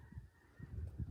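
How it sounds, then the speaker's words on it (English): Geese honk in a short run of low, nasal calls, moderately distant and fairly faint, heard over a garden in autumn with a steady background hum. "I don't know if you can hear behind me the geese."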